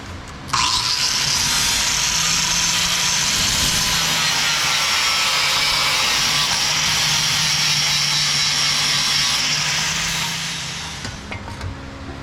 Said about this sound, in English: I'm gonna sand some more of this off real quick